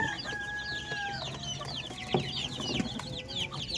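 A flock of chickens and young chicks, Orpingtons among them, cluck and peep steadily at close range, with a rooster-like call and scattered sharp chirps over a low farmyard hum.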